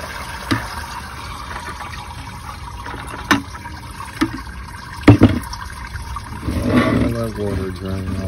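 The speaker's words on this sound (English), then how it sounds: "So now we're gonna pour all this water off of them." Water poured off a bucket of minnows through a strainer while preparing perch bait, a low rushing pour that swells near the end after a few sharp clunks, close and moderately loud.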